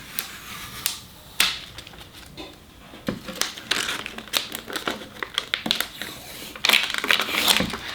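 Protective plastic film being peeled off the base plate of a Festool HL 850 E planer, heard as dry crinkling and crackling with sharp tearing snaps in bursts, close up and with no talk.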